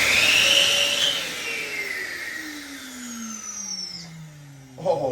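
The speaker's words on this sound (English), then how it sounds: "And then use a vacuum cleaner to suck it out" A vacuum cleaner pulls electrical cable through conduit, its loud whine starting strong and then sliding steadily downward in pitch as the load changes, ending with a short clattering burst.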